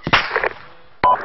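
Two sharp cracks of gunfire in a military video game, a sharp crack with a short ringing tail, then a second crack about a second later, close and loud with no talk.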